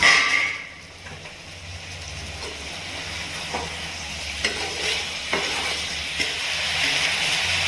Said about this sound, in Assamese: তো এতিয়া মাংসতে বিলাহী দিওঁ।